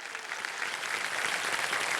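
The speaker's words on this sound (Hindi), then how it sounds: "जोरदार तालियां।" Audience applause for contestants on a televised game show, a continuous even clatter of clapping lasting about two seconds and moderately quiet, with no talking over it.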